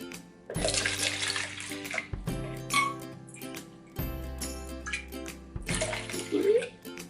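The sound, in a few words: pouring hot water into a container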